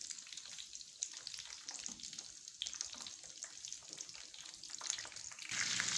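Aloo macaroni cutlets fry in a pan on low heat, giving a soft steady sizzle with small crackles and a louder hiss near the end, all quiet and close, no one speaking.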